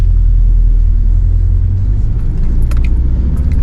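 A Fiat Panda 4x4 idles up a steep, slippery hill, its engine a loud, steady low rumble heard close from inside the car, with light rattles and jingles over the drone.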